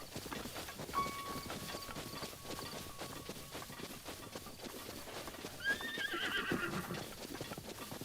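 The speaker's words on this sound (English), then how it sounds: "Trying to get a horse." In the video game Zelda Breath of the Wild, a horse's clopping hooves patter steadily while a high whinny rises near the end, over game ambience.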